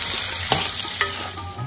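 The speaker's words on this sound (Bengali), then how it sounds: "আমি কেটে রাখা আলুটা ভেজে নিচ্ছি" Cut potatoes frying in mustard oil with a little salt and turmeric, a loud close sizzle running continuously with a couple of sharp scraping stirs of the spatula.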